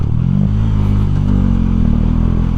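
A Bajaj Dominar motorcycle engine runs steadily close by, its throaty exhaust carrying a deep, bass-heavy drone with a slight rise in revs partway through and no talking.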